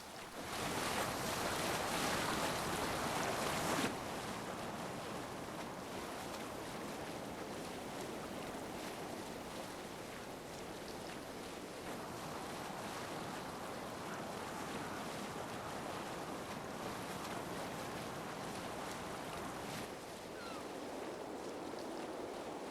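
Open-sea waves in the video game Assassin's Creed Valhalla wash and churn steadily around a sailing ship, with a wind-like hiss that is louder at first and then settles into a constant surf.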